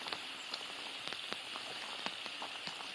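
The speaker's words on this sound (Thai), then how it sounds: "ฝนตกลงมา" Rain falling steadily during outdoor hook fishing, a soft, even hiss with scattered light drop patters, fairly quiet and continuous with no talking.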